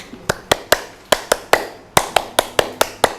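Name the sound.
class clapping hands in ice breaking game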